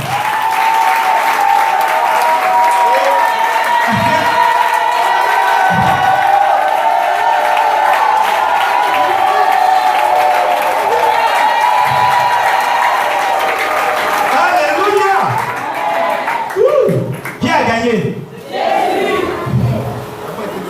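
A church congregation at a Sunday service applauds and cheers in acclamation of the Lord, loud and sustained, with scattered shouts and voices rising as the clapping thins toward the end.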